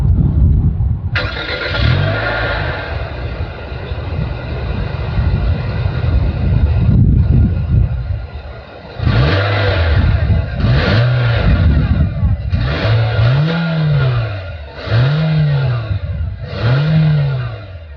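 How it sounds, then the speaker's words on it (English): A 2025 Nissan Versa's small engine catches from a start, then idles and is revved in a series of repeated rising-and-falling blips through the exhaust, heard up close and loud. "As always, here is that exhaust clip."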